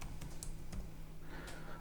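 Keystrokes on a computer keyboard while entering a new Java project name in the Eclipse IDE, a short burst of light, scattered clicks over a steady low background hum.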